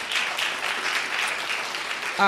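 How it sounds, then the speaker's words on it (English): Steady applause from an audience fills the whole stretch, a dense even patter of clapping hands without a break. "Please give her a round of applause."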